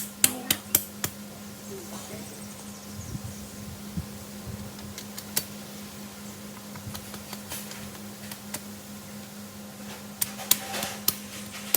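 A knife cracks open a coconut shell, giving sharp, irregular taps and knocks scattered through the stretch, loudest near the start and again toward the end, over a steady outdoor hum.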